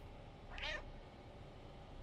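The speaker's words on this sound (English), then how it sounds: "And you can meow." A single short cat meow from the cat in the game Stray, brief and fairly faint over a quiet ambient background, no voices.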